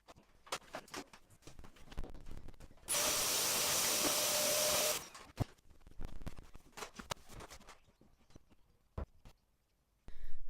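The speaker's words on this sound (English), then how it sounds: "now I am going to clean out all that dust up there and give it a vacuum" A vacuum cleaner roars steadily for about two seconds while a cupboard is cleaned out, surrounded by scattered knocks, taps and rustling as things are moved around nearby.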